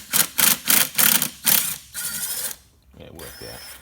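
Pliers work a stuck clamp loose on a Toyota Hilux Vigo engine during EGR removal, giving a run of four or five loud close ratcheting bursts, then a longer grinding scrape and a softer final clack.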